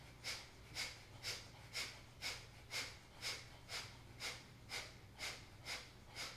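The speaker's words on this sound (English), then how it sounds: "forceful exhales" Kapalabhati yoga breathing, a series of about thirteen sharp, forceful nasal exhales in a quick, even rhythm, close and clear over a low background hum.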